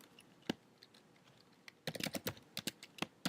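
Someone types a first name on a computer keyboard, a few scattered key taps followed by a quick run of clicky strokes, close and fairly quiet with no talking.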